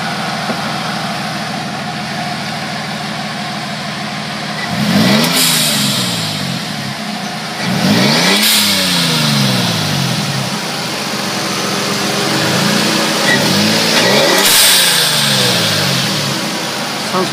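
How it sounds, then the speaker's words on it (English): A 1993 right-hand-drive Toyota Supra engine idles steadily, then revs sharply three times, each rev ending in a loud hissing blow-off valve release. It is close and loud, with no talking. "I mean, blow-up valve's pretty loud."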